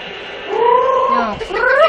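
A cat gives a drawn-out meow and then a second, rising meow close by, fairly loud against a quiet indoor background.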